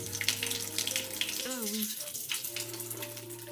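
Tap water running in an abandoned house, a close, steady splashing hiss with a low hum beneath, while people talk quietly over it.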